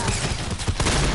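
A no-scope sniper shot in the Whistle Warrior video game: dense, loud burst of gunfire crackle filling the whole short moment, with no pause or talking.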